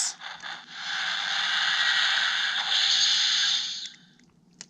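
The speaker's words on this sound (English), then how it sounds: "it actually does steam sounds." Steam sound effect from a Tomy Plarail C62 toy steam locomotive, a loud, steady electronic hiss lasting about four seconds before cutting off, heard alone up close.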